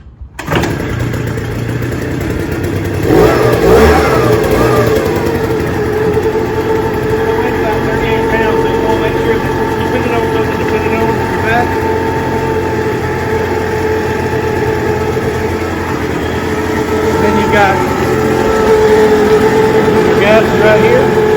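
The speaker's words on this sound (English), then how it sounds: "And then what I'll do is start it up and then show you how" A Tomahawk TMD14 gasoline backpack fogger engine starts with a short sputter, then runs loud and steady at a buzzing small-engine idle throughout, close to the listener.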